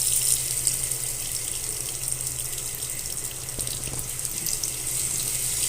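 Water runs steadily from a restroom faucet at a Dollar General store, a constant hiss that stays even and fairly close, with a brief clunk near the middle and no talking.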